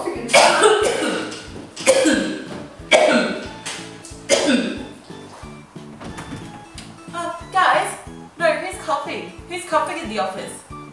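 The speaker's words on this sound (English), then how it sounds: "That would be me who's coughing." Repeated harsh coughing from one person in an office setting, several loud bursts spaced a second or two apart, mixed with nearby conversation.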